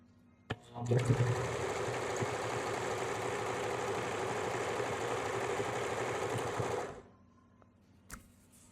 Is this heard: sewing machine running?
yes